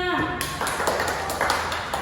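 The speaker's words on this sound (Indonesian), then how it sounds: "Kita beri tepuk tangan untuk temannya." Pupils in a classroom clap for a classmate who answered correctly, a brief patter of many small claps that begins just after a voice speaks and continues with children's voices faintly underneath.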